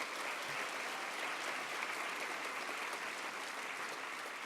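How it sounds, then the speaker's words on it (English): An audience at a Holocaust awareness evening with a survivor gives steady, sustained applause, a dense wash of clapping at even volume throughout with no voices standing out. "Can we give a round of applause to Denise"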